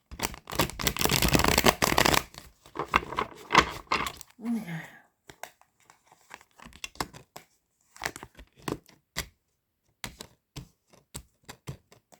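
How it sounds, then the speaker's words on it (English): Rapid papery riffling of tarot cards in a couple of loud bursts, followed by sparse taps and soft shuffles, with a brief voice in between. "I'm gonna keep shuffling these cards"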